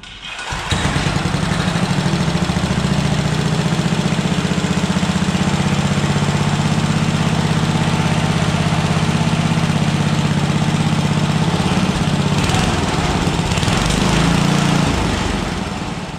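A small go-kart engine with a CVT clutch starts and settles into a loud, steady idling drone that holds for about fifteen seconds before easing off at the end. No one talks over it.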